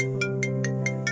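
Phone ringtone chiming in a steady repeating pattern, five short bright bursts over a sustained tonal bed, moderately loud and alone without talk.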